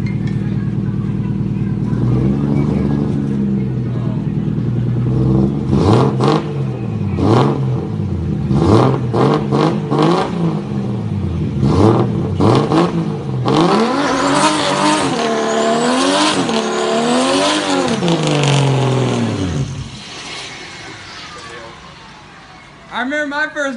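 A car engine does a burnout with the clutch dumped, revving hard in repeated rising and falling sweeps with tire squeal, loud and close, before the engine cuts off near the end.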